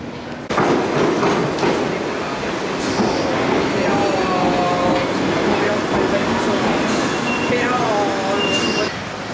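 Loud, continuous rumble of a London Underground train in motion, with metallic wheel squeals and brief rising whines as it travels.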